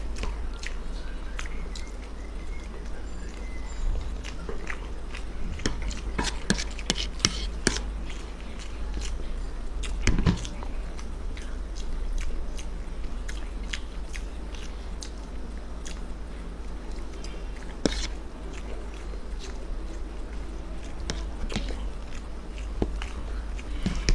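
Someone eats spicy boiled eggs with spicy Maggi noodles, making scattered soft bites, wet squishes and chewing clicks close to the microphone over a steady low background hum.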